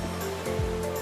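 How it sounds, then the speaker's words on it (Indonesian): Ocean waves wash onto a beach at Youtefa Bay in the morning, a steady, fairly loud rush of surf with a brief swell partway through. "Menyambut pagi diiringi deburan ombak di tepi pantai bersama sang mentari."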